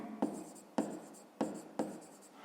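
Pen or pencil writing by hand on paper during a fifth-grade maths exercise: four quick scratchy strokes at a steady pace, close and quiet, with no voices.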